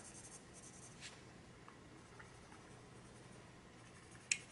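Cool gray colored pencil strokes on white paper make a faint, steady scratchy shading sound, close and alone, ending with a small click.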